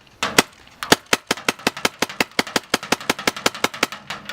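Rapid paintball marker shots from a Tippmann FT-12 and BT Combat Slice, around twenty sharp cracks in an even, steady rhythm with a short pause near the start, loud and close on an open outdoor field.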